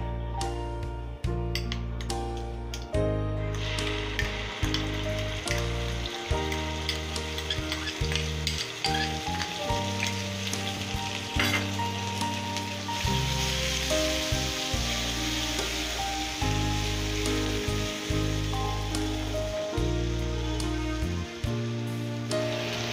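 Brown onion paste frying in hot oil gives a steady hiss that sits beneath loud, continuous instrumental music with a stepping melody for the whole stretch, with no voices.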